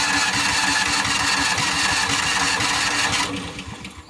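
A John Deere Gator utility vehicle's small engine, started without choke on a hot day, runs with a steady rapid chugging pulse that holds loud and close before easing down and fading near the end.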